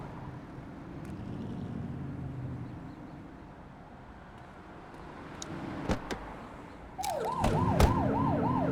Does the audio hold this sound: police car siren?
yes